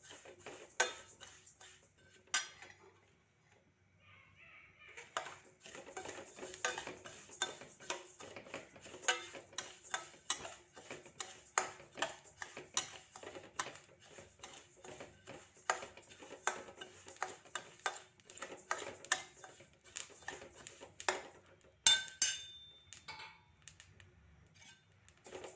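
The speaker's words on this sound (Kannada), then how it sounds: "ಗುರಾಳೆಲ್ಲ ಹುರ್ಕೋಬೇಕಾಗುತ್ತೆ." Niger seeds dry-roasting in a pan for a traditional chutney powder produce a long run of light, rapid ticks and rattles as a spatula stirs against the metal, soft and steady with no speech.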